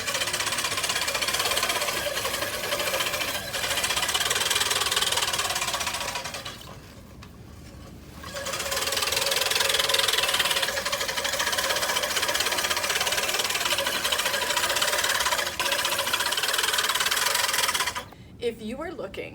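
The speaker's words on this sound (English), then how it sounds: "the 14-inch push lawn mower by the American Lawn Mower Company, is truly awesome" A 14-inch American Lawn Mower Company push reel mower cuts grass with a continuous whirring, rasping clatter of its spinning blades, close and loud. It drops briefly as the mower pauses, then resumes steadily.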